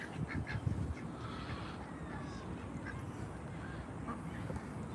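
Ducks being fed at a community pond give scattered quacks and honking calls, a bit distant, over steady outdoor noise.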